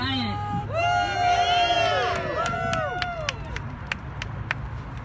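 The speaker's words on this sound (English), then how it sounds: "Let's give a round of applause for Perry Bryant." A rally crowd backing Build Back Better climate action cheers with whoops and raised voices, then scattered sharp claps follow toward the end, fairly close and lively.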